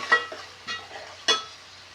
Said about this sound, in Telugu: ఆనియన్స్, ఈ జింజర్ మంచిగా ఫ్రై కావాలి.